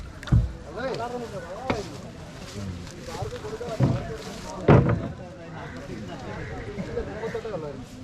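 A boat named Karuvatta is launched into water, with occasional paddle splashes and knocks while people talk and call out over it.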